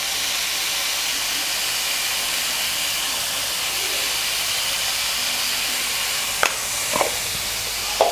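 Cauliflower with salt roasts in a pan over a low flame, giving a soft, even sizzling hiss that runs steadily, broken near the end by a few sharp clinks of a spoon against the pan.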